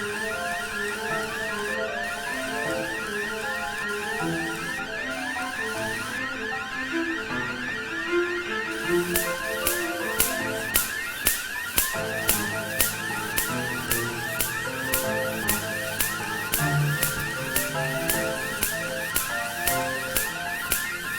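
An alarm goes off in a video game. A continuous synthetic warbling tone is layered with melodic game music, and from about a third of the way in, a steady train of sharp electronic pulses repeats. It stays loud and persistent throughout, with no talk.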